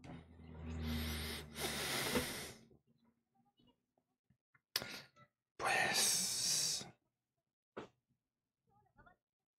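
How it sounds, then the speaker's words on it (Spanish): Slow, breathy cat snoring sounds in separate bursts with quiet gaps between them, near and soft, each a raspy hiss on the inhale or exhale. "Estoy escuchando a mi gato roncar."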